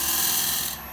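A tool shaving the corner off the edge of an American Elm platter on a lathe: one brief, bright, rasping cut that carries steadily, then drops off abruptly near the end.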